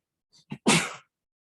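A single sharp sneeze, close and loud, with a quick intake before the burst, then silence.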